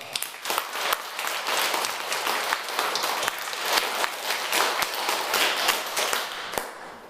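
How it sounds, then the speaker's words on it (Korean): A church congregation claps in praise during a Sunday sermon, a dense, steady round of applause with sharp individual claps standing out, moderately loud and continuous for several seconds. "감사하면서 우리 하나님께 영광의 박수 한번 드립시다."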